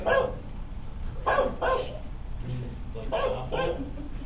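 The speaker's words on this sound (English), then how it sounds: "there goes the dog" A dog barks in several short bursts, spaced irregularly, at moderate distance over a low background hum, with no talking.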